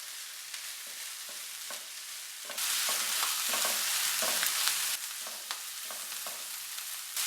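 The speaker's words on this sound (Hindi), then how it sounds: "अब पैन में डालेंगे 2 टेबलस्पून ऑयल, कटी पालक। पालक को मैं 1 मिनट के लिए पकाऊंगी।" Chopped spinach fries in two tablespoons of oil in a pan, a steady close sizzle that swells louder for a couple of seconds as it is stirred, with light spatula taps throughout.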